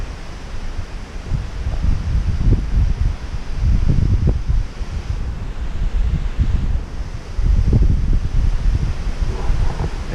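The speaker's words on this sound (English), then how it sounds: "It's very, very windy." Strong wind gusts buffeting a microphone on a misty morning in the Blue Ridge Mountains after an overnight storm, a steady roar that swells in repeated heavy surges.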